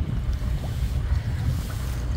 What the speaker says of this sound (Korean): 또 갑자기 바람이 분다